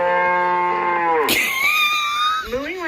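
A person imitates a cow with a loud, drawn-out voiced moo that breaks into a higher, rising wail, then tails off into a short lower vocal sound.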